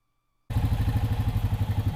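An ATV engine starts up after a half-second of silence, then runs with a steady, rhythmic mid-pitched putter and clatter, close and moderately loud, while riding on an access road west of Miami.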